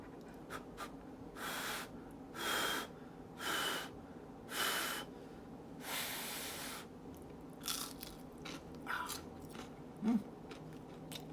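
Crunchy fried akara bean fritters are bitten and chewed up close, giving several distinct loud crunches in an irregular series followed by quieter chewing, with no talk.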